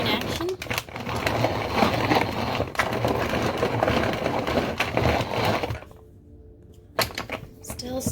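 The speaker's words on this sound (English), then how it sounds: "Some stirring action." Nuts for no-bake nut cookies being stirred, heard as rough crunchy scraping and clattering strokes that run steadily, then drop away briefly near the end before a few more stirs, with some talking over it.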